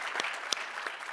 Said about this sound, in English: give another round of applause to our panelists